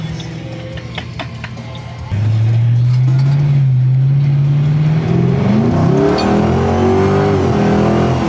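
A Roush Mustang with a 4.6L V8 revs hard, its engine note jumping loud and rising steadily as the tires lose traction on a slippery surface, a continuous close roar with no talk.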